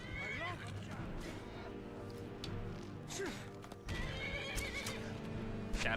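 A horse in the Skyrim video game neighs and whinnies repeatedly over steady clip-clopping hooves and scuffling combat thuds, fairly close, with a dense game soundscape throughout.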